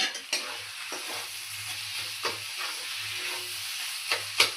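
Cabbage fries in oil while being stirred, a close, steady sizzle with periodic scraping strokes of a spatula against the pan.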